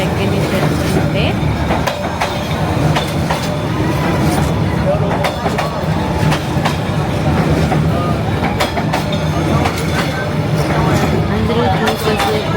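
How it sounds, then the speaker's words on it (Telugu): A train rolls slowly through a narrow street lined with cafés in Hanoi's Train Street, a steady loud rumble with clattering wheel clicks running throughout, while crowd chatter and voices carry on over it. "ట్రైన్ వచ్చింది."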